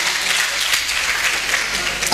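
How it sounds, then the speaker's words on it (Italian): At a town festival honoring young athletes, an audience applauds in a brief, dense burst of clapping that holds steady and close throughout. "un applauso a tutti loro"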